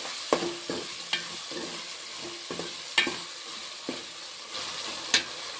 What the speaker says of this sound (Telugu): ఇవి ఫ్రై అవుతున్నాయి